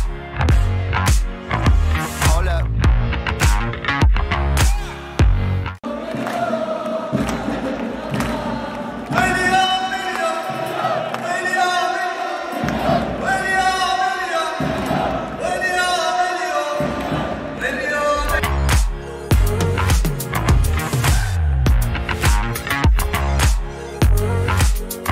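Arab teams' supporters chant and sing in chorus inside Lusail hall, a loud, continuous mass of voices with rhythmic thumping beats and claps that swell and fall across the whole stretch.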